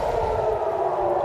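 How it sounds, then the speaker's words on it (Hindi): Air raid sirens wailing over Haifa during a missile attack, a loud steady drone that fills the air without a break, heard alone with no voices. "तो देखिए किस तरीके से सायरन की आवाज़ से पूरी तरीके से गूंज रहा है।"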